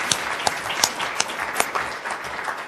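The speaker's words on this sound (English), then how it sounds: "So just a round of applause." A roomful of people applaud at the close of an event on immigration reform, with dense continuous clapping and several sharper individual claps popping out close by at irregular intervals.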